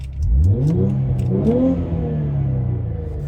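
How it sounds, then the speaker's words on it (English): A car engine revs hard with rising and falling pitch, loud and close, with sharp hissing bursts from blow-off valves between revs. "the car sounds way louder with the blow-off valves now that I can hear them completely"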